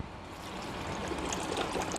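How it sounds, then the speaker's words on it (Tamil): Water poured into a pressure cooker holding tomatoes, curry leaves and salt for Kalyana rasam, a close, steady splashing trickle that swells slightly toward the end, with no speech. "இப்போ தேவையான அளவு தண்ணி ஊற்றிக்கலாம்."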